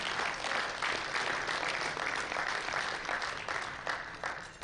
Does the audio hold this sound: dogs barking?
no